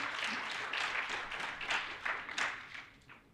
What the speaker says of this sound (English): Round of applause, please, for the doctor.